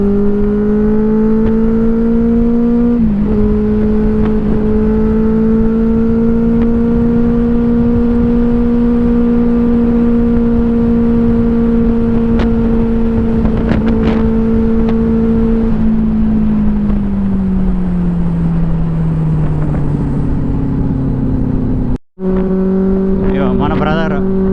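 Superbikes riding together, a Kawasaki Ninja 1000 and a Harley-Davidson among them, engines holding a steady loud drone that shifts pitch as the riders change speed, with a brief cutout near the end.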